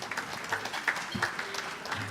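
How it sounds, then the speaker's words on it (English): An audience at a centenarians' celebration applauds with steady, dense clapping that lasts the whole moment and is moderately loud, with no talk over it. "Let's give them another round of applause."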